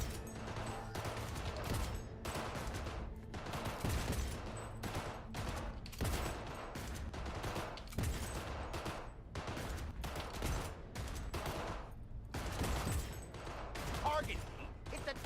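Rapid gunfire at shooting range targets in Cyberpunk 2077, bursts of sharp shots repeating through the whole stretch with brief gaps, loud and close, with a voice talking underneath.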